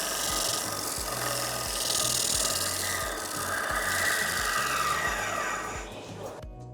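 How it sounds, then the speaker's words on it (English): Scrap wood pressed against the spinning disc of a shop disc sander after it is switched off, giving a steady rasping, rubbing friction that runs continuously with a low rhythmic rumble, then cuts off abruptly at the end. "After turning the green sander off, use a piece of scrap wood to stop the rotation of the disc"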